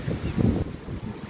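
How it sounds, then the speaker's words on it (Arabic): Wind at a beach buffets the microphone in low rumbling gusts, a short muffled roar rising and falling. "في هوا"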